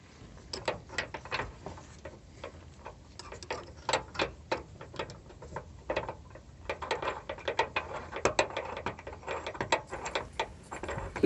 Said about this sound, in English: we need to undo the bolt from the stabilizer bracket